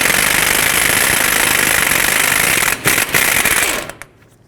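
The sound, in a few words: 30mm socket removing Toyota Camry axle nut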